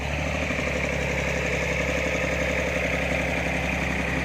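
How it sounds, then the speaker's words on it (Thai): A used walking tractor with a rotary tiller, offered for sale in running condition, idles with a steady, loud, rhythmic engine chug that holds unchanged from start to finish. "ตัวรถกับโรตารี่ขายห้าหมื่นห้าเครื่องสตาร์ทติดอยู่ครับ"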